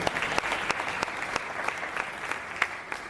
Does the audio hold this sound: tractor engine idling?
no